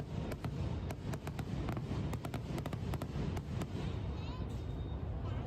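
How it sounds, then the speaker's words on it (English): Lunar New Year fireworks in Hanoi crackle and pop in sharp, scattered bursts, some in quick clusters, over a steady background rumble of wind and distant traffic, with people talking throughout. "Nice fireworks."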